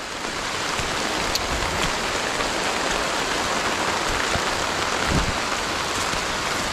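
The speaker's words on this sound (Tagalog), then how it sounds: "Mga kasama, yun na naman yung ulan." Steady rain pours down outdoors near a river, a dense, even hiss of drops on surfaces that fills the whole stretch without a break, loud and close, with no voices.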